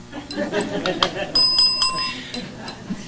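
A small hand bell rings a few clear, bright strikes that linger briefly during a lecture at a temple Sunday feast, with someone talking around it.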